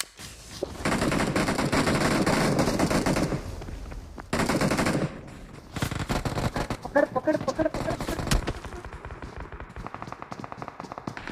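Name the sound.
gunfire in the video game BGMI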